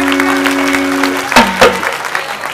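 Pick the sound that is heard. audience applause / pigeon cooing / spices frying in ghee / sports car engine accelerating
audience applause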